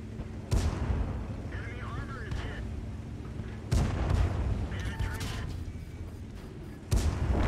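Tank cannon shots in a tank battle game on the Prokhorovka map, three loud booming blasts spaced a few seconds apart, with rumbling battle sound and people talking between them.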